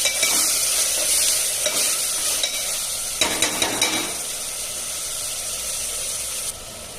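Washed mutton fries in hot oil with a loud, close, continuous sizzle and bursts of stirring scrapes, easing to a steadier hiss toward the end.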